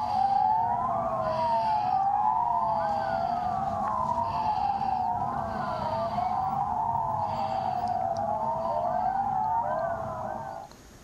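An ambulance siren wails in a continuous rising and falling sweep, loud and close, from one of 20 new ambulances donated to Moldova, running steadily throughout before tapering at the end.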